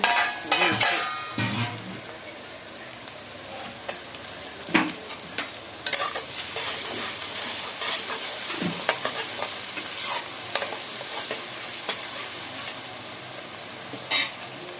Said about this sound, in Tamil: வெங்காயம் வதங்க.